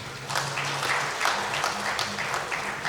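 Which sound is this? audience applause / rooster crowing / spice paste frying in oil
audience applause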